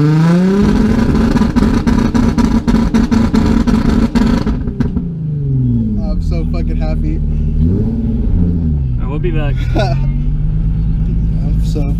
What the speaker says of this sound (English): I'm just gonna drive around.